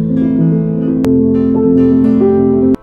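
Upright Yamaha U1 piano from 1976 played with the celeste felt rail lowered, giving a muted, softened tone: several sustained notes and chords ring steadily, close and clear, with no talking until they stop abruptly.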